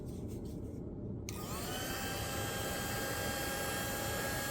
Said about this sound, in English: What I am going to do is get out my heat gun and try and push the blooms to get started a little bit better.